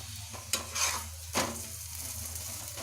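Aloo paratha frying in ghee on a pan, a soft steady sizzle close by with a few scraping stirs and brief utensil clinks as the flatbread is turned; no one speaks.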